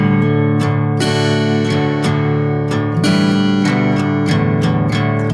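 An acoustic guitar strums a rhythmic pattern, mostly on the lower strings, with bright, rhythmic strokes and ringing chords, played close and solo without any voice.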